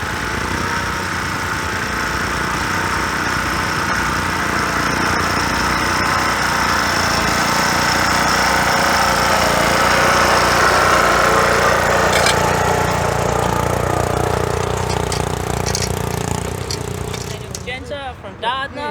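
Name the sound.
homemade tractor with 253 Holden V8 engine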